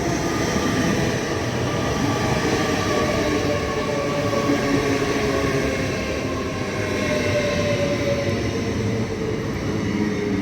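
Train 800-208, a Class 800 unit, stands at a station platform with a steady loud mechanical hum and low rumble, faint tonal whine layered over it, continuous and close with no talk.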